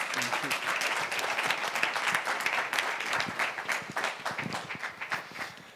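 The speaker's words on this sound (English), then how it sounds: "Let's give them a big round of applause." An audience at a panel discussion claps in sustained, dense applause that gradually thins into scattered claps, heard from within the room.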